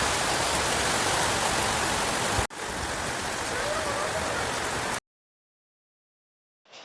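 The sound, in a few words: rain falling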